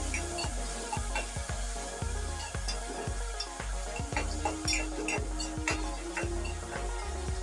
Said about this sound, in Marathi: तेल छान गरम झाल्यानंतर मी यामध्ये घालून घेणार आहे बारीक चिरलेला टोमॅटो।